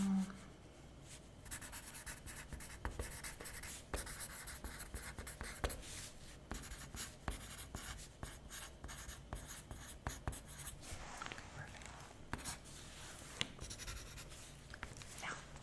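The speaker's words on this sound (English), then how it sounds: "So I'm just gonna write this down." A pen writes on paper at a wedding planner's desk, with steady close scratching and rubbing strokes that run continuously in short bursts and brief pauses.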